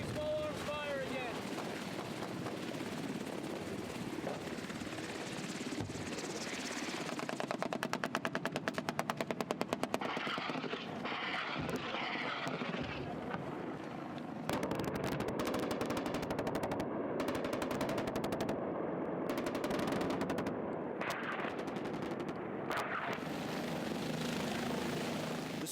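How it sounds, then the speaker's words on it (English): Small arms fire crackles at a supply helicopter with two Apaches nearby in a war zone, bursts of gunfire popping over the steady thump and whine of rotors, loud and continuous, with voices faintly underneath. "The bird's getting shot at right now. Taking small arms fire again."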